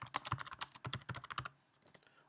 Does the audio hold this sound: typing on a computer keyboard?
yes